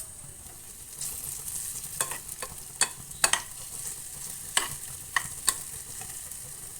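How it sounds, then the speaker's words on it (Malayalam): Banana pieces fry in a pan with a soft, constant sizzle, broken by a dozen sharp scrapes and taps of a spatula stirring them, close up and without any voices. "ഒരു ബ്രൗണിഷ് നിറമാവുന്നത് വരെ ഇളക്കിയെടുക്കാം"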